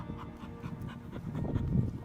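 A pit bull pants close by in quick, rhythmic breaths, growing slightly louder toward the end, with no talk over it.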